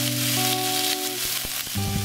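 Sliced starfruit with a pinch of salt frying in a pan after a mustard seed tempering, for a Bengali sweet-sour chutney, giving a steady close sizzle with a few soft knocks as it is gently stirred.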